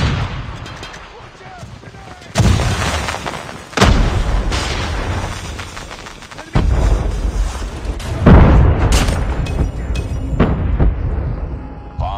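Flashbang bursts and gunfire in the shooter game Call of Duty Mobile, with loud booming blasts and sharp shots recurring through the clip, mixed with in-game voices.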